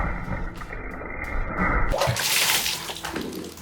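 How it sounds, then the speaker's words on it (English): A water balloon punctured by a small homemade robot built as an Among Us impostor, giving a sudden wet burst and splash after a steady mechanical hum, then water spattering and sloshing briefly. "walk up and puncture the water balloon all by himself"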